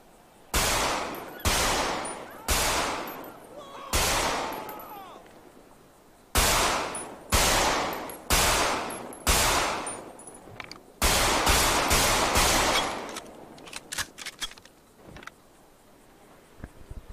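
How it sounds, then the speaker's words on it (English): Glock pistol shots in FiveM, the modded GTA V game: loud, sharp single reports in separate groups of three or four with brief ringing tails, then a quick close burst of shots and a few fainter clicks. "This is what the Glock sounds like."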